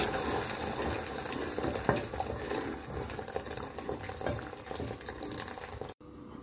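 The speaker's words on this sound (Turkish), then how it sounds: "Şimdi böyle suyumuzu döke karıştırıyorum suyu" Water poured into a pot and stirred for broccoli soup, a steady close rush of pouring liquid with faint stirring clinks, continuous and fairly loud throughout.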